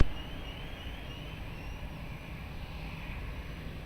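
An airplane takes off at Lisbon Airport, its engine roar a steady broadband rumble heard from a distance, without voices.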